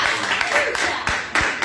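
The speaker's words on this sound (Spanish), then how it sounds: "Un aplauso al Señor." Church congregation applauding during a Spanish-language sermon, a brief burst of clapping with a few sharp hand claps standing out near the end.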